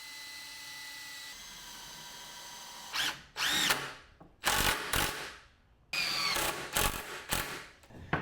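A power drill drives 2.5-inch deck screws into the corners of a wooden folding workbench skirt, whirring in several close, loud bursts with ratcheting clutch clicks between them, after a quiet stretch with no talk.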